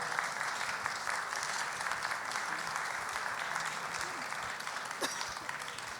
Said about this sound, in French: On les applaudit une dernière fois